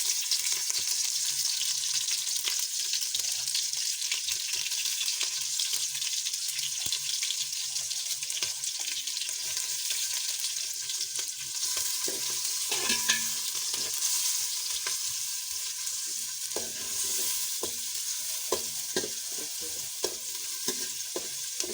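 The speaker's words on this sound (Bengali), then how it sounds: "তেলটা একটু গরম হয়ে গেছে, আমি এর মধ্যে কাঁচামরিচ পেঁয়াজ দিয়ে দিলাম" Green chilies and onion sizzle steadily in hot oil, a constant close hiss broken now and then by the clicks of stirring, with no voices.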